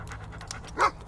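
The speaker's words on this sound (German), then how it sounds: "Wir müssen ihn bellen lassen." Dog in the video game Hobo Tough Life lets out one short bark or yelp near the end, over a steady low game hum and soft panting-like breaths.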